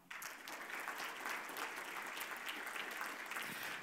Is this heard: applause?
yes